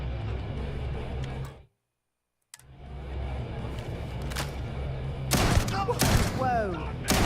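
Loud bursts of gunfire crack out in a quick cluster near the end over a rumbling background, with voices talking earlier.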